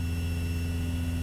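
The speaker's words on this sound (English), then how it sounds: "what you're hearing is the gear horn" A multi-engine training aircraft's landing gear warning horn sounds after power is reduced on one engine, a steady continuous tonal buzz with a low hum beneath it, close and unbroken throughout.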